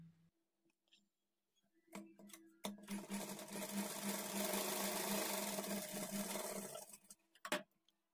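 A sewing machine stitches a blouse lining at a quarter-inch margin, starting after a few soft clicks and handling sounds, then running in a steady close whir for about four seconds before stopping with a final knock.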